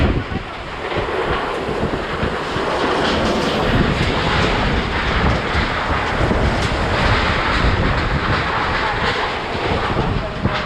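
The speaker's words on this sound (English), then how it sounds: "Can you hear the wind?" Strong typhoon winds roar continuously in Naga, Bicol, a loud, broad rushing gust noise with heavy microphone buffeting that persists throughout without pause.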